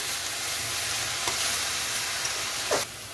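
Mixed leafy greens sizzling and frying in a pan for homemade shak bhaji, a steady crackle with a couple of brief stirring scrapes, close and alone with no talk.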